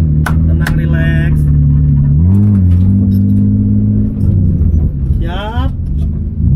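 Loud drift car engine revving on throttle, a sustained droning roar that dips and rises again as the gas is released and reapplied, with people talking over it.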